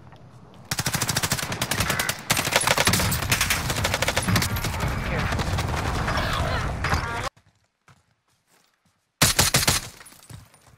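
Dense automatic gunfire in Call of Duty Warzone, loud sustained bursts of rapid shots for several seconds, a brief silence, then another burst near the end.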